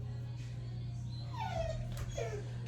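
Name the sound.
dog whimpering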